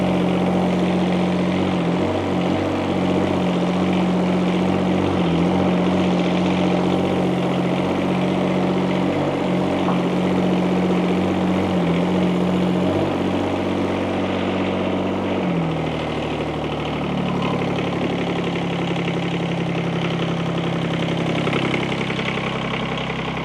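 Toro Dingo compact utility loader engine idling steadily with a new muffler fitted, a continuous mid-pitched drone with a pulsing low hum that drops to a lower, smoother tone partway through, close and alone.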